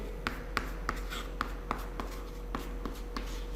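Chalk or marker strokes as numbers are written during a maths lecture on HCF and LCM, a close run of about eleven short, regular taps and scratches over a steady low hum, with no talking.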